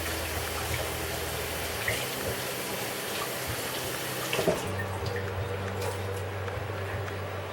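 Tap water runs steadily while parsley and other herbs are rinsed under it in a kitchen sink, a continuous broadband splash that shifts in tone partway through as the flow changes.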